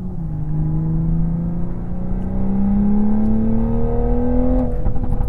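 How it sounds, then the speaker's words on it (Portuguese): Toyota Supra accelerating on the Interlagos race circuit, a loud steady engine drone climbing smoothly in pitch as it pulls through the gears, heard from inside the car with no talk. "só pra vocês ouvirem o barulho do carro"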